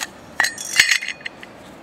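Handling an MSR titanium camping stove and cookware: a few bright metallic clinks and taps in quick succession, close by, with a ringing tone between knocks and quiet gaps, no talking.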